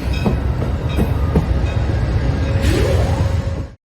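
Amtrak Budd Metroliner electric passenger train rushing past, a loud continuous roar with rhythmic wheel clatter and a brief rising whine before cutting off abruptly.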